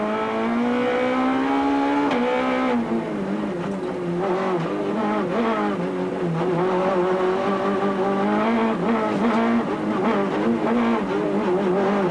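Citroën rally car on a slippery road, a loud, sustained engine note rising and falling as the driver works the throttle through slides, close and continuous throughout.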